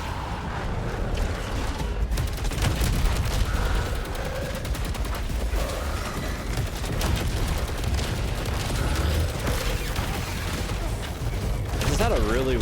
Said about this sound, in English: all this explosions and stuff